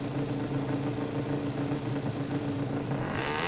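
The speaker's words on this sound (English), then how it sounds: "Revs are rising." In the MotoGP 17 video game, racing motorcycles rev on the starting grid of the French Grand Prix at Le Mans, a loud, dense, continuous engine roar that holds steady and brightens toward the end.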